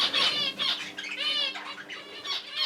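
Pet budgerigars squawk loudly and close up with a rapid flurry of chirps while their wings flap in bursts, the noisy calls almost continuous over a couple of seconds.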